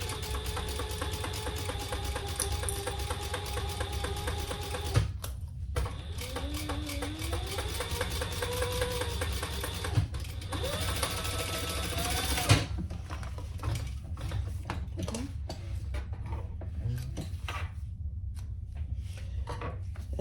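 A sewing machine runs in steady rapid bursts while stitching a quarter-inch seam on a fabric crossbody bag, with a constant mechanical hum, brief pauses and clicks near the middle, and no talking.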